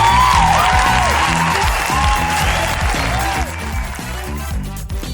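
Crowd at a live comedy podcast recording for Rire à l'Est applauds and cheers loudly, steady clapping mixed with whoops, set under a rhythmic music bed with a pulsing bass beat throughout.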